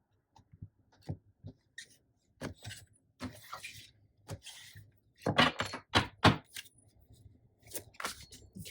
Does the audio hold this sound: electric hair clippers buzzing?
no